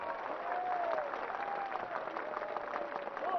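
Sustained applause from a large outdoor crowd at a Bodo peace accord political rally in Kokrajhar, steady and dense throughout, with a faint voice from the stage drifting over the clapping.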